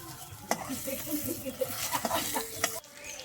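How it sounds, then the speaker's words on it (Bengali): Bay leaf and panch phoron hit hot oil for dudh shukto, giving a light crackling sizzle with scattered pops and spits as the spices fry, close and fairly quiet. "এবার আমি ফোড়নে দিয়ে দেবো তেজপাতা, একটু পাঁচফোড়ন দিয়ে"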